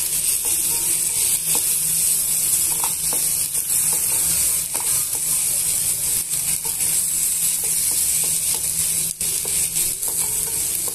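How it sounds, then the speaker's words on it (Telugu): Tomato, onion and curry leaves fry in a pan with a steady, close sizzle. Scattered clicks of stirring come through, and no one speaks. "కరివేపాకు యాడ్ చేసుకొని కొంచెం సేపు ఒక 1 మినిట్ అలా వేయించేస్తున్నాం."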